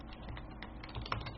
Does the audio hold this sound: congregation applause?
no